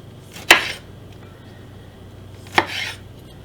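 Cherry tomatoes being sliced with a knife on a cutting board: two crisp, close cuts about two seconds apart, each a sharp snap with a short tail, over a quiet room.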